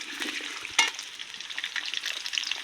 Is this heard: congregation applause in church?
no